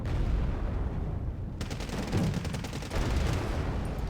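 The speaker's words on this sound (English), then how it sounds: "Short range heavy machine guns." Short-range heavy machine guns fire in the Wargame Red Dragon Second Korean War campaign, a rapid, dense stream of rattling bursts with distinct individual shots. It starts after a brief lull, is fairly loud, and no one speaks.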